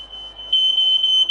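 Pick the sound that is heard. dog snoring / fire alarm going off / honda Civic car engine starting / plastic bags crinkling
fire alarm going off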